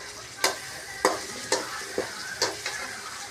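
Onion sautéing in a pan with mustard seeds, ginger and garlic: a quiet, steady sizzle broken by six distinct scraping stir strokes at roughly half-second intervals, close up.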